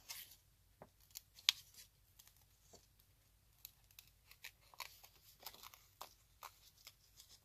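Scissors snip out words from the pages of a hardcover book being made into a junk journal, a series of quiet, close, irregular cuts and paper rustles.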